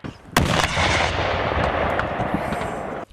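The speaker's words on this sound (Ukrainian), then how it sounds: "навчають стріляти зі стрілецької зброї, кулеметів та гранатометів" Loud bursts of gunfire crack out at a military firing range, with a sharp shot near the start followed by sustained, rumbling rapid fire from small arms and machine guns that carries on outdoors for several seconds.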